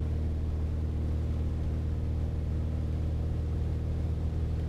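Engine of a V-Tail Bonanza aircraft on its takeoff roll, a steady loud droning roar with a low harmonic hum, constant and close without any talk.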